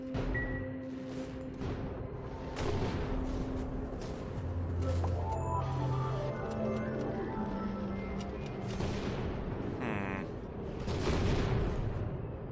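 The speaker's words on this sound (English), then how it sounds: "Ooh, explosions." Explosions go off in the colony-building game Oxygen Not Included, booming and rumbling repeatedly across the clip, mixed with game tones and electronic beeps.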